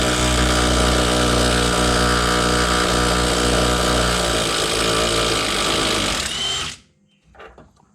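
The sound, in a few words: impact gun loosening 13 mm bolts under Camaro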